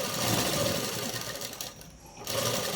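A sewing machine stitches fabric for an umbrella-cut dress in a close, rapid, steady whir that pauses briefly near the end before starting up again.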